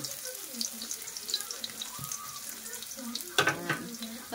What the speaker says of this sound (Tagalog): nilagay ko na yung sibuyas and then yung bawang